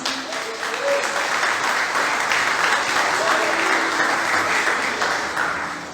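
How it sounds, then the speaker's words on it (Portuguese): Congregation applause at a church service, a dense, steady wash of many hands clapping that swells in and fades toward the end, with a faint voice beneath. "Para aplaudir Jesus."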